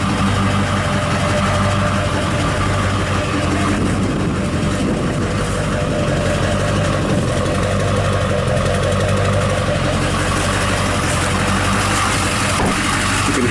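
Duramax diesel engine in a Silverado 3500 dually idling loudly and steadily up close, a rough rumbling drone with slight rises and falls in level from a fuel leak, no talking.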